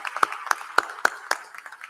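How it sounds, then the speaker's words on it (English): Sparse clapping at a college commencement ceremony, about five distinct, evenly spaced claps standing out over a faint background of scattered hands, quiet and somewhat distant. "Round of applause for all of them."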